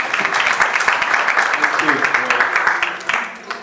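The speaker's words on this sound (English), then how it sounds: "welcome him on stage with a clap" An audience at a University of Nairobi student event claps steadily and loudly to welcome a speaker onto the stage, with voices mixed in under the sustained applause.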